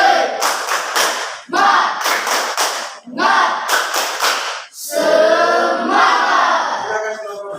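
A standing classroom group does a rhythmic spirit clap in quick bursts of claps, with shouted voices joining in and a final burst of cheering voices.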